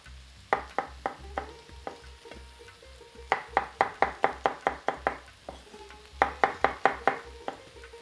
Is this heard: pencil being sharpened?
no